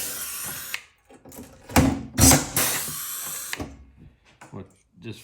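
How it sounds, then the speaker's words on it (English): Riveting on a Cessna 182 center console: a rivet gun fires in several short, sharp, loud bursts with brief pauses between them, close up, mixed with tool handling noises. "Get to riveting."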